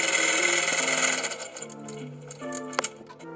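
A Brother PR655 embroidery machine sews a placement stitch for a number, its whirring drone giving way to rapid mechanical ticking and rattling, up close and steady, with no voices.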